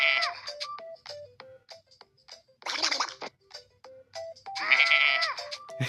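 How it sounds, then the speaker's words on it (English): Repeated goat bleats, loud and close, some long and wavering and others short, coming in separate bursts with brief pauses and occasional scratchy noise. "So let's see what this goat sound like."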